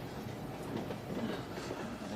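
A passenger train rolls steadily on its rails with a low, continuous rumble and faint clatter, heard from inside the carriage, with no voices.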